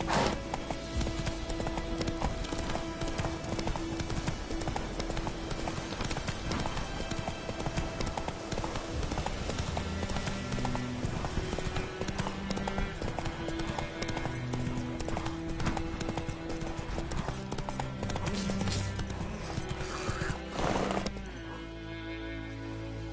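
Roach the horse gallops in a video game, with a steady, loud clip-clop of hooves running throughout over a dense music bed and occasional whinnies, fading slightly near the end.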